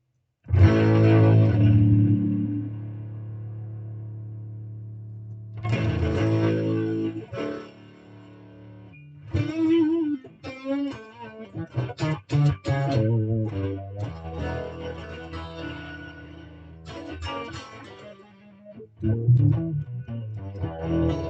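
Electric guitar heavily processed through effects, with distorted, buzzy chords and choppy bursts separated by short silences, played up close.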